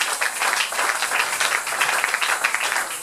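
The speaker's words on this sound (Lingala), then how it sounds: "Est-ce que tu peux acclamer très fort pour le Seigneur?" A church congregation at a Sunday service applauds, with dense, steady clapping that fills about three seconds without a break.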